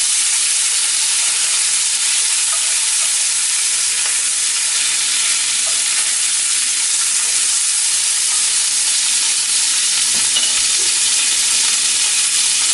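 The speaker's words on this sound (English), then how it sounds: "Man, that bacon's sizzling." Loud, continuous sizzling and crackling of bacon frying in a hot pan, heard up close with no voices.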